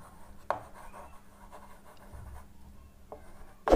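Writing on a board for a shear force and bending moment diagram: faint, soft scratchy strokes with a couple of sharper taps, quiet and close with no talking.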